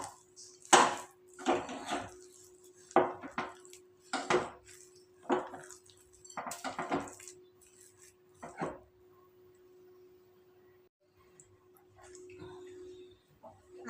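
Sugar being stirred into a coconut khoya mixture in a pan: a series of scraping, clinking spoon strokes against the pan in uneven bursts, then quieter stirring toward the end.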